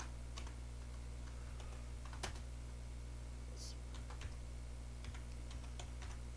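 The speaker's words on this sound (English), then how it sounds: "I'm going to type in a name here in the file name input box" Faint computer keyboard typing, a sparse run of light clicks at an uneven pace over a low steady hum, quiet and close with no voice present.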